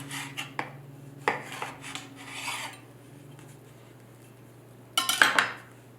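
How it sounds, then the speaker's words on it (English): A kitchen knife slices through a tomato with several short, close scraping strokes, a quiet pause, then a louder burst of cutting and a light clink at the end. "and slice my tomato."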